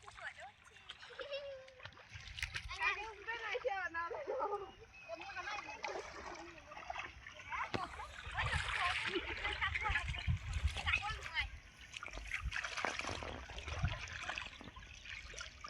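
People splash and play in cold river water, with uneven bursts of splashing and trickling while children and adults talk and call out over it.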